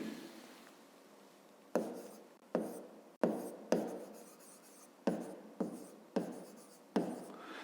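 Handwriting during a fifth-grade maths lesson, a pen scratching out strokes on paper in a quiet room, with repeated short bursts and pauses, close and clear, no voices.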